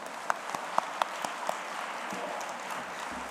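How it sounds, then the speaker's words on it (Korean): Scattered, faint claps of thanks from a church congregation at a New Year's prayer service, after youth leaders led praise songs; a few sparse, distant claps early on, then thinning into room noise. "우리 감사의 박수를 올려드리겠습니다."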